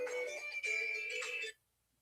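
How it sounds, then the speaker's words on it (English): A phone ringtone plays a short bright melody for about a second and a half, then cuts off abruptly into silence. "Girlfriend's ringtone"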